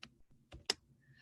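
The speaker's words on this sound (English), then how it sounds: "So if I type AB line, AB lines" A few scattered computer keyboard keystrokes, typed while entering text into a spreadsheet, sounding as sparse close clicks with pauses between them in a quiet room.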